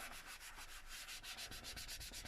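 Kitchen towel rubbed over a page of a junk journal envelope pocket, a soft, steady papery scrubbing with quick repeated back-and-forth strokes, close and quiet, with no voices.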